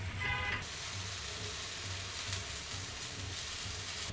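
Food frying on a high flame is stirred, giving a steady close sizzle with a soft spatula scrape, continuous throughout.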